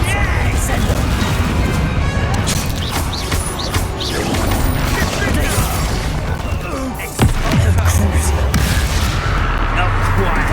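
Depulso and Incendio spells cast in Hogwarts Legacy, a dense run of loud booming blasts and crashing impacts layered with game effects, with a sharp burst near the end and a voice calling out over the action.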